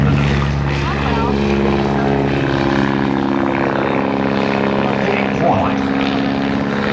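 A biplane flies aerobatic manoeuvres at the Sun 'n Fun 2012 air show, its propeller engine droning steadily and loudly throughout under continuous commentary over the public address.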